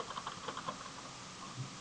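Quick light taps on a computer keyboard as a web address is typed, a short uneven burst of soft clicks that trails off, faint and close.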